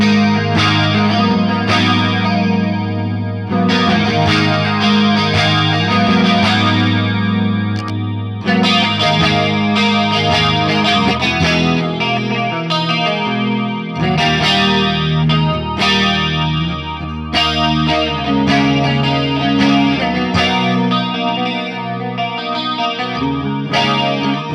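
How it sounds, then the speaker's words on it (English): Electric guitar through a Hughes & Kettner Tubemeister 18 amp with chorus switched on, shimmering strummed chords played continuously and fairly loud, the tone swirling and doubled, with no speech. "the delay's off, and now I've got the chorus on."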